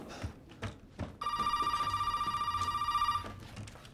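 A telephone rings inside the horror game Resident Evil 7, a steady electronic ringing tone held for about two seconds, loud and close, after a few quiet footsteps and soft movement sounds.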